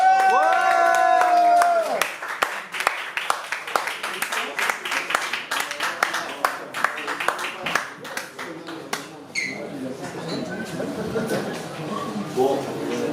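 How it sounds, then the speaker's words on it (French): At a slam poetry night, the crowd bursts into loud clapping and cheering for the evening's winner, rising right after a held tone and sustained voice at the start, then thinning and fading with shuffling as a voice continues. "On applaudit très fort, très fort, très fort, très fort le gagnant de la soirée."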